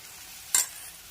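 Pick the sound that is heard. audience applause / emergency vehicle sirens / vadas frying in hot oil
vadas frying in hot oil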